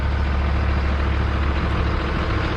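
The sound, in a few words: 1963 White semi truck engine running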